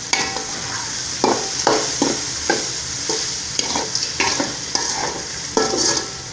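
Vegetables stir-frying in a pan with noodle masala, with continuous loud sizzling broken by regular scraping strokes of a spatula stirring the mixture.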